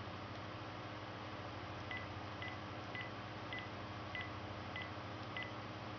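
Telephone dialing tones before a phone call, a series of evenly spaced short beeps, one per button press, faint over a steady low background hum.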